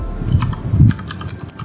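Someone types a command on a computer keyboard at close range, a brief flurry of loud key clicks in about two quick bursts with no voices.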